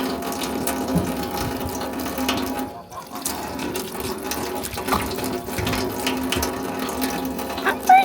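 Garden mustard greens being rinsed in an outdoor sink, water running and splashing steadily with clattering and knocking of handling throughout, fairly close and without talking.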